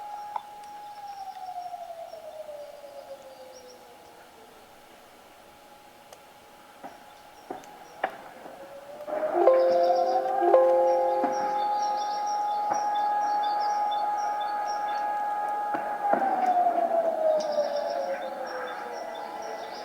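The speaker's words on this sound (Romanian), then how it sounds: "Sirenele de raid aerian au sunat în oraș." Air raid sirens wail over the town of Kotovsk, distant rising and falling tones that fade low, then swell again as a second siren joins in, with a few faint ticks around them.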